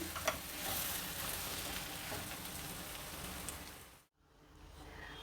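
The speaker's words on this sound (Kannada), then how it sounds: "ಉಪ್ಪು ಹಾಕಿದ್ಮೇಲೆ ಒಂದು ನಿಮಿಷ ಹುರಿದ್ರೆ ಸಾಕು ನೋಡಿ ಎಣ್ಣೆ ಎಲ್ಲ ಬಿಟ್ಕೊಳ್ತಾ ಇದೆ" Seasoning with salt frying in oil for mango chitranna crackles softly like light rain, a faint continuous sizzle that cuts out abruptly near the end and then resumes very quietly.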